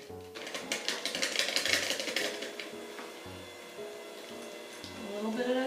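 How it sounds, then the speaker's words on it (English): A hand mixer whirs steadily through cinnamon roll dough as warm wet ingredients are gradually worked into the dry, a continuous close mechanical buzz with slight rises in intensity. "you're going to use a hand mixer, and you're going to gradually add the warm into the dry"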